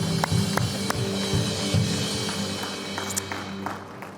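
A church congregation claps steadily during worship praise, with rhythmic, moderately loud handclaps over a sustained background of music and room sound.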